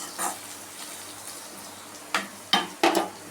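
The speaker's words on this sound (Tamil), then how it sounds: "காயும் கொஞ்சம் நேரம் எண்ணெயில் வதங்கட்டும்" Pumpkin pieces sauté in oil in a pan, giving a soft steady sizzle broken by several sharp clattering stirs near the end, close and moderately loud, with no voices.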